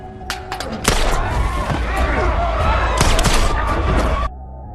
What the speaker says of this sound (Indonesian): Tembakan demi tembakan terus dilancarkan oleh mereka.